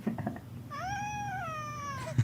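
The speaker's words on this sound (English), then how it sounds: "Cat yodeling." A cat yodels in a played-back clip, one long wavering meow sliding up and down in pitch, fairly close and clear over quiet background, preceded by faint murmuring.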